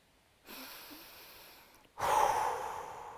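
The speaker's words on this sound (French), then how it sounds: "des belles grandes respirations" Deep breaths taken during a guided exercise session, two breathy swells, the second louder and longer, close and clear with no talking.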